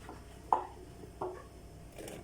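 Aubergine chopped with a knife on a cutting board in a home kitchen, giving three sparse, quiet knocks about half a second to a second apart against a faint background hum.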